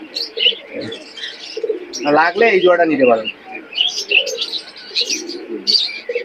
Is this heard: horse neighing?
no